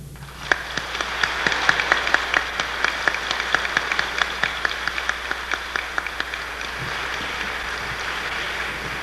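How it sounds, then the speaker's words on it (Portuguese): Audience at a 1994 university physics graduation ceremony applauds the graduates, a steady wash of many hands with distinct sharp claps standing out, heard from some distance with wind-like noise underneath. "Uma vez mais, os nossos aplausos aos formandos."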